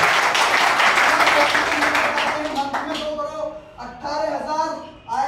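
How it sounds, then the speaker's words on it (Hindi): Applause and clapping from a training-session audience, loud and dense at first, then thinning out over about five seconds with some talk coming through underneath. "और जोरदार ताली दी"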